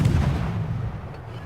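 A ship's secondary guns fire in the naval combat game World of Warships, a single loud, booming report that rumbles and fades over about a second.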